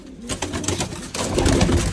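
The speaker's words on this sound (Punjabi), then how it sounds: "ਅਤੇ ਇੱਧਰੋਂ ਕਬੂਤਰੀ ਚੱਕ ਲਈਏ।" Pigeons coo nearby in a short, soft burst, low throaty calls rising after a brief quiet start.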